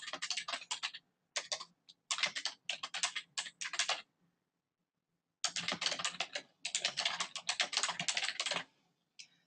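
Someone types on a computer keyboard in quick bursts of close, crisp key taps, with a pause in the middle and no talking.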